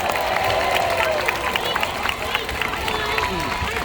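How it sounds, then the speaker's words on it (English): An aquarium crowd applauds a sea lion after a show, scattered clapping and some cheering in a fairly reverberant space, with voices mixed in. "So let's give him a round of applause for doing such a great job."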